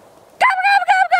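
A wild turkey answers with several loud, close gobbling calls in short bursts after a quiet start, with no one speaking during it.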